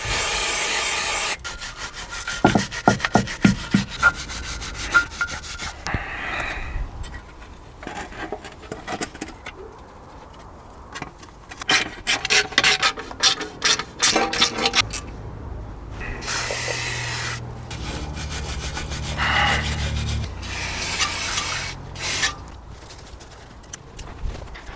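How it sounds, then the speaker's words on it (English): Brake pistons on a BMW 7 Series G11 front caliper are pressed back and the caliper cleaned: close scraping and rubbing, scattered metallic clicks and knocks, and bursts of hissing spray, with no talking. "now pressing the brake pistons back into brake caliper and a little bit of cleaning"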